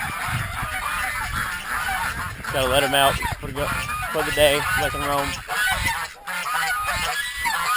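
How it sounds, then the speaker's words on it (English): Geese honking loudly on an off-grid homestead, a noisy flock calling repeatedly with overlapping harsh honks close by, while someone talks over them. "You can hear the geese."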